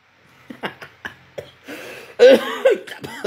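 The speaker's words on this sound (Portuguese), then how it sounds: "tosse da porra" Several sharp coughs in quick succession, close and fairly loud, followed by a burst of harsher coughing or laughter-like noise toward the end.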